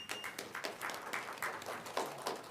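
Audience applause breaks out at an Iowa City council meeting, a steady wash of clapping from a roomful of people that carries on briefly, fairly close, with no voices over it.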